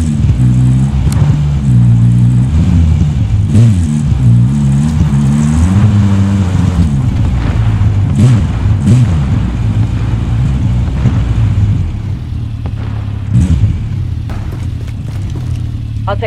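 A car engine drones continuously while driving in the video game Call of Duty: Warzone, a loud steady low rumble with wavering pitch and faint wind noise, easing slightly near the end.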